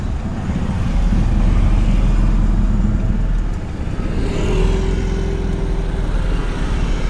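A learner's car on a driving lesson pulls away as the half clutch is released, a loud close engine drone holding steady with a slight rise in tone partway through, without talk.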